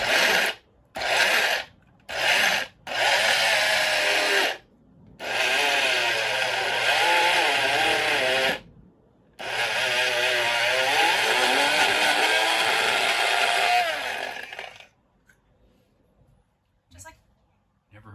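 Dukkah spices and hemp seeds being finely ground in an electric grinder, loud whirring bursts that start and stop repeatedly, then one long run before falling quiet, with talking around them.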